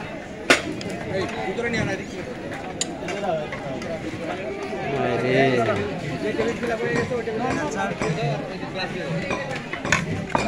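Plates and dishes clink and clatter as food is served at an outdoor breakfast picnic in a garden, short scattered clinks under constant crowd chatter and nearby talking.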